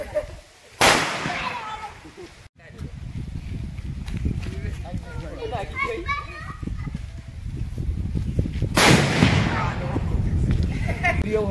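Firecrackers going off during a Diwali celebration, with two sharp loud bangs several seconds apart over constant noise of children playing and shouting nearby, and people talking throughout.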